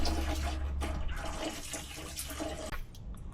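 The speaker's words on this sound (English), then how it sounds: "to keep the coolant from flowing anywhere, is tie this up or face it down to your bucket and drain it" Coolant drains from a Jeep Wrangler radiator into a bucket as a steady, continuous splashing pour of liquid, fairly close and unbroken for a few seconds, with no talking.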